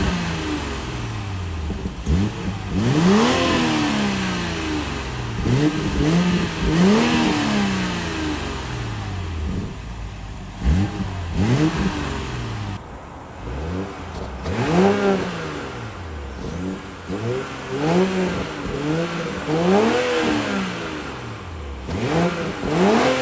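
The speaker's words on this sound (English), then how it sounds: "let's hear the exhaust of the pre-facelifted 540i right now" Pre-facelift BMW 540i exhaust revved repeatedly, a series of rising and falling throttle blips with a rich, raw tone, steady and close with no talking.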